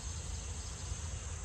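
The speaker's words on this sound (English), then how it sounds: "Just loaded with bees" Honeybees buzzing steadily in a jam-packed hive colony, a dense continuous drone heard up close with no pauses or talk.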